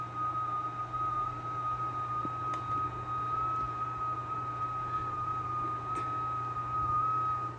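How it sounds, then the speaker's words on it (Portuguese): An FT8 amateur radio digital transmission from a nearby transceiver sounds as one steady, unbroken electronic tone that holds throughout, over a low constant hum and faint background hiss. Two brief ticks break in, and there is no talking. "Esse barulho que você está ouvindo é a minha transmissão, que está aqui do lado."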